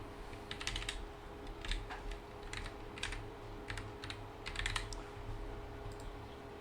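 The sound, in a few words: typing an email on a computer keyboard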